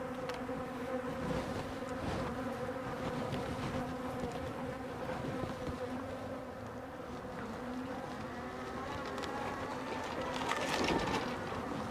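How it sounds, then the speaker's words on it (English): Many bees hum continuously around beehives, a dense, steady drone with individual insects buzzing past up close, faint overall and without pause. "Bees are still after me."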